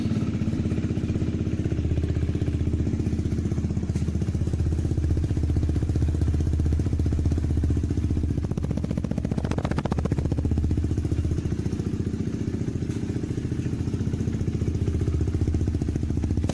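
KTM Duke 390 motorcycle running with its exhaust removed, giving a steady, loud, raw engine drone with a slight swell midway; close and continuous, with no voices.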